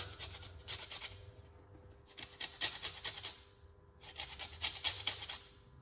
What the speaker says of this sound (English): you want to zest that lemon